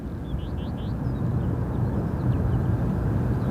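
A Norse airliner on approach to London Gatwick Airport in a crosswind, a steady low distant jet rumble with wind noise and faint bird chirps.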